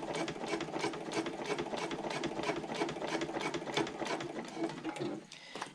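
A sewing machine runs a steady, rapid stitch across the bottom of a slip pocket on a Hiraeth handbag, the close whirring continuous and even before it slows and stops near the end.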